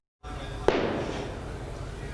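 A firecracker bursts with a single sharp, loud bang during a wedding procession, then the steady crowd and street noise continues.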